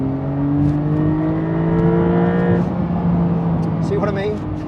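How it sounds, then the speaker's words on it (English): A Porsche 911 992 Carrera 4 GTS with a twin-turbo 3-litre flat-six accelerating hard from inside the cabin, a loud, rising engine drone with climbing tones and a shift near the end, under someone talking. "The power delivery from the 3-litre flat 6 with the twin turbos is absolutely"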